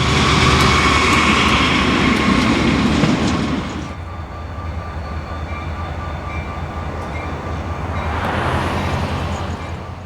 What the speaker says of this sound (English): A 4-unit lash-up of wide cabs gets a piggyback train moving out of Crescent.